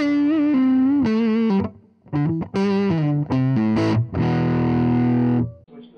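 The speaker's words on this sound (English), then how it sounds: "Kick on the reverb." Distorted electric guitar chords and single notes ring out through a modified 1966 Kalamazoo Reverb 12 amp with reverb on, with short pauses and a long sustained chord near the end.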